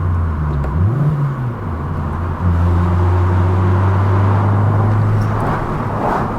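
Vauxhall Corsa engine droning steadily while driving, with a quick rising rev blip as the driver rev-matches a downshift from fifth to third, then settling into a steady, close hum.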